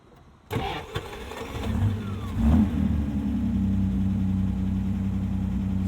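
Cobra sports car engine cranked with a starter button, catching after a brief crank and revving up before settling into a steady, loud, close idle, with no talk.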